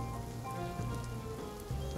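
Steady rain falls on city streets, a continuous wash of patter layered under a low tonal background hum.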